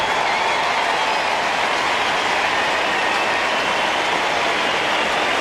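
A stadium crowd at the SCG roars in response to a goal at an AFL match between the Swans and Richmond, a dense, sustained wall of cheering at steady loudness throughout.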